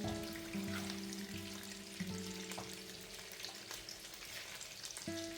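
Marinated fish fries in a pan with a continuous, even sizzle and crackle, heard close and steady under faint background music.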